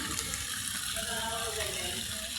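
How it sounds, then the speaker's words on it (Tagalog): Strong water gushes from a faucet at a resort in Calamba, Laguna: a loud, steady, close rushing stream that never lets up, with faint voices in the background. "Lakas ng tubig yan."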